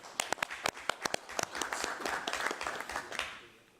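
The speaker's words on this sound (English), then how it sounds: "I'd like a round of applause" Applause for council staff at a council meeting, a room of people clapping steadily for about three seconds with sharp individual claps standing out, then fading away near the end.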